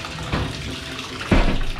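Hot water running from a Delta shower faucet turned fully to hot: a steady, hissing rush with two louder surges, near and alone without talk.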